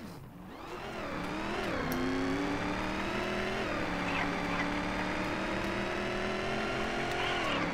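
Race cars in the indie racing game Gazolinas accelerating hard, a loud, sustained engine whine climbing in pitch, with dips and rises at gear changes and another engine layered underneath.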